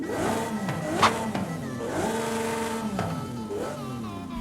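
A Lamborghini SC20's stock engine in Forza Horizon 5 revs up and down repeatedly in rising and falling sweeps, steady and close, with no voices.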